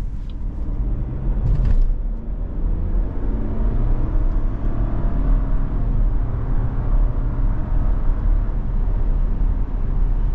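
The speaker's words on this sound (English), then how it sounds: "it gets the vehicle up to speed without a problem." A 2023 Chevrolet Trailblazer Activ AWD accelerating up to speed, heard as a steady low engine drone with road and wind rumble from inside the cabin, continuous and fairly loud with no talk.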